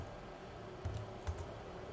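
Numbers typed on a computer keyboard: a few faint, soft key clicks spaced apart over a quiet background hum, with no talking.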